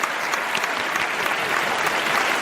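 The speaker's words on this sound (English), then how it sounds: "giving them a warm round of applause" Warm audience applause after a dance performance, a dense, even wash of many hands clapping close and loud throughout, with no voices standing out.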